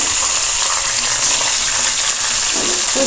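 A large karfu fish head frying in hot oil, loud continuous sizzling and bubbling close up, with a brief clatter near the end.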